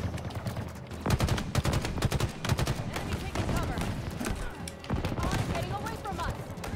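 A big gun fires in Halo Infinite amid a loud, continuous firefight: rapid repeated shots and bursts crowd the whole stretch, with overlapping blasts and a voice briefly talking over the din.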